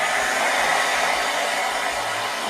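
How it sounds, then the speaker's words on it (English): A hair dryer set on high and hot blows with a steady, even whoosh, close and loud, running continuously without any speech. "And then we're going to take our hair dryer"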